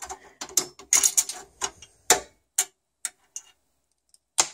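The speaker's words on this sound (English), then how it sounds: "And I do believe I forgot one last screw. So we'll undo that." Screwdriver undoing the last screw that holds a graphics card in a PC case: a series of close, dry ratcheting clicks and ticks, dense at first then spacing out into isolated taps, with no voices.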